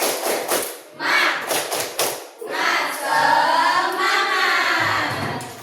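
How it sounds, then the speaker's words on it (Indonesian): A primary school class claps the rhythmic 'tepuk semangat' pattern in a classroom, a quick run of hand claps followed by the group chanting and singing together. "sekarang kita tepuk semangat dulu karena sudah selesai pelajaran ini"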